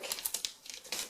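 Artist tape handled while sealing a window air conditioner during installation, a quick series of close crinkling and light tearing bursts.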